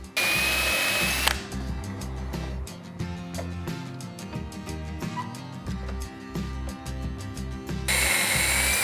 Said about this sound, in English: For all the holes that I drill, I wanna mark the depth so that I don't drill too far.